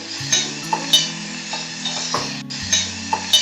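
Onion with grated ginger and garlic being sautéed in a pan gives a steady soft sizzle, broken by repeated metallic clinks and scrapes of a spatula stirring against the pan, close and clear.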